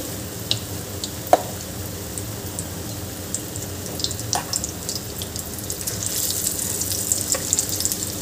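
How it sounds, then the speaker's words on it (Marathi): Batata vada dumplings frying in hot oil in a kadhai, a steady bubbling sizzle with a few sharper pops and no talking. "आणि हे आपल्याला वडे छान तळून घ्यायचे आहे खरपूस"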